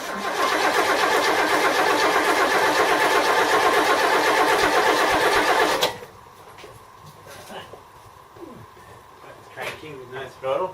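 Vehicle engine cranking hard for about six seconds in a loud continuous grinding roar, then cutting off abruptly into quiet handling sounds.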